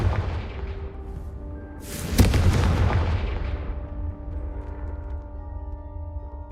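A Confringo spell in a Harry Potter-style video game goes off as a loud, booming explosion that swells around the two-second mark over a rumbling low background, then trails off into a lingering roar.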